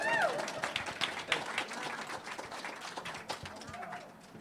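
Applause from an audience, dense clapping that stays steady and then slowly thins and fades.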